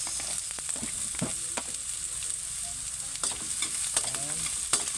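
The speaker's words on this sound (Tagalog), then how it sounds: "Pahit po tayo ng mantika, sunod natin itong sibuyas." Sliced onions fry in hot cooking oil for a squid adobo with tomatoes, giving a steady close sizzle throughout, broken by scattered scrapes and clicks of stirring.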